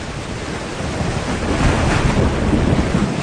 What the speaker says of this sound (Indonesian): Badai sudah turun dan semua orang harus berlindung.